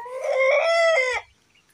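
A farm rooster crows once, loud and close, a drawn-out crow of a little over a second that ends abruptly, with no talking over it.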